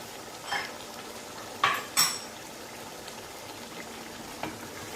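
Chicken haandi is stirred in a pot, with a faint sizzle of frying under a few sharp metallic scrapes and clanks of a spoon against the pot, spaced irregularly.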